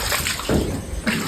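Rain falls with water splashing near a flooded house, a dense close wash of spattering and sloshing with short louder surges.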